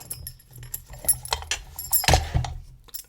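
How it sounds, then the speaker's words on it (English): Keys freed from a Master Lock 3574 padlock jangle and clink close by in a few irregular bursts, with one louder metallic rattle past the middle. "I've released the keys from the lock."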